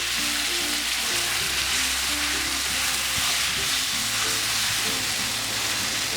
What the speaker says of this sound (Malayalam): ഓയിൽ ചൂടാകുമ്പോഴേക്ക് ഈ എടുത്തു വെച്ചിരിക്കുന്ന ചെമ്മീൻ്റെ കൂട്ടിട്ട് കൊടുക്കാം.